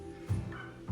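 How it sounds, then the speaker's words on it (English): A dog barks twice in the distance, short and muffled, in an otherwise quiet room. "Sorry about the dog in the background."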